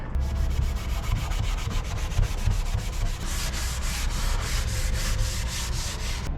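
Scotch-Brite rubbing down the oiled wooden thwarts of a wooden boat: a close, steady scrubbing rasp in even back-and-forth strokes, growing more distinctly rhythmic in the second half.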